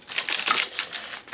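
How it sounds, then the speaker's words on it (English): A knife chops through tortilla pepperoni pizza in a hot pan, giving a quick burst of crisp, crunchy, close cuts in rapid succession. "we are going to cut these into pieces."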